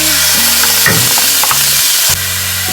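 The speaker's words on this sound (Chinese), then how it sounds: "先炒一炒肉。" Meat stir-fried in plenty of leftover oil in a wok after eggplant has been removed, for an eggplant in garlic sauce dish: a loud, steady close-up sizzle broken by several scraping strokes of a spatula.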